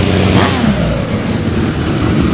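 A truck rolls past at the Lynden Freedom Parade in Washington State in 2020, a loud, close engine rumble with a sharp high air-brake hiss near the start amid outdoor crowd noise.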